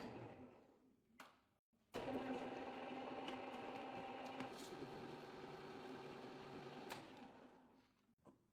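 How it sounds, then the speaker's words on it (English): A metal manual pencil sharpener casing churns inside a tumbler machine with media and dish soap, giving a steady, loud mechanical rumble and rattle that starts abruptly and runs continuously for several seconds before easing off. "casing goes into a tumbler with media and dish soap. The machine tumbles,"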